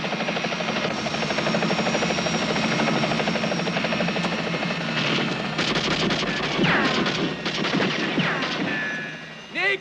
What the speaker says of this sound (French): Je vous signale que 3 hélicos nous suivent.